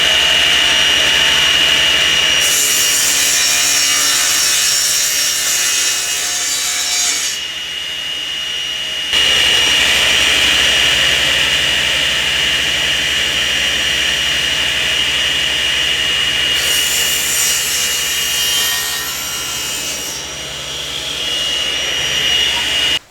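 Power saw trimming plywood box lids by a fraction of an inch, a loud whining cut rising and falling in two long passes with a short pause between, steady and close throughout.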